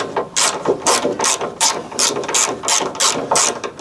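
A hand ratchet tightens a bolt in steady, rhythmic bursts of close, loud clicking, about nine strokes in a row with no talk.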